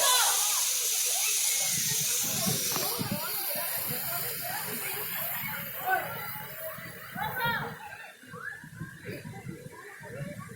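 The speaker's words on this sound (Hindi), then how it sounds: "बहुत प्यारा झरना है जो ऊपर से आप देख सकते हैं कि पानी इस वक्त नीचे की तरफ गिर रहा है" A mountain waterfall pours down with a steady hissing roar that is loudest at the start and then eases back. Someone talks over it throughout.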